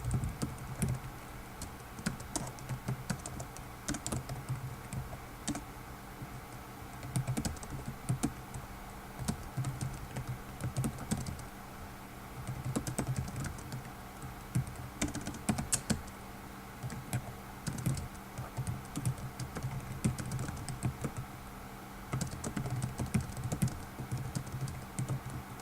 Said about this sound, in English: And I'm going to type an answer.